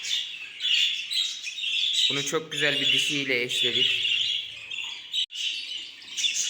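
Bright, repeated bird chirps and squawks close by, with a person talking over them partway through.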